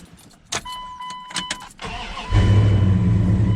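After a few quiet seconds, the engine of a lifted budget mud truck turns over and catches, then settles into a loud, deep, close rumble.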